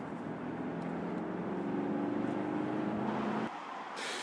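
A 2015 Mercedes C220 CDI Tourer diesel estate accelerating hard, a steady broad engine roar building through the run before an abrupt drop at a gear change, with no voices.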